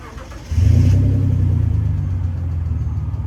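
A car's engine, on a car with non-working brakes, idles quietly and then rumbles up loudly with a revving surge. It holds a close, pulsing low growl while the car is being parked.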